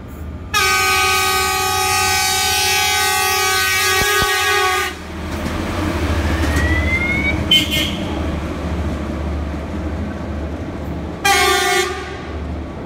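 A train on the Banyuwangi–Malang line sounds a long loud horn blast, then rumbles and clatters past nearby, with a second short horn toot near the end.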